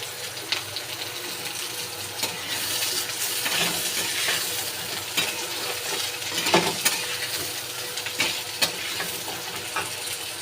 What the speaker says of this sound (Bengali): এবার আমি কাঁচা পেঁয়াজটা দিয়ে দেব, এর সাথে ভেজে নেব।